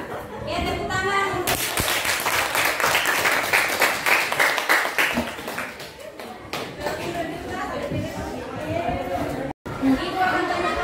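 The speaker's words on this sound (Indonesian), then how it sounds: "tepuk tangan" A classroom of students claps together in a lively burst of scattered applause mixed with chatter and shouting voices, tapering into talk and then rising again in a second round.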